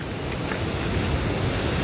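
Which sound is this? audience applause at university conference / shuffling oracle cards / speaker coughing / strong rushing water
strong rushing water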